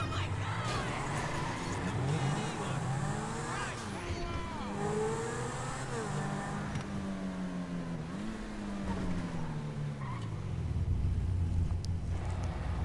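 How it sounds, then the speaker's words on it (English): The Zentorno supercar's engine in GTA V on PS4 revs and shifts, its pitch repeatedly climbing and dropping in sweeping whines at moderate loudness, with no voices over it. "even just the sound of the Zenturno is just way better"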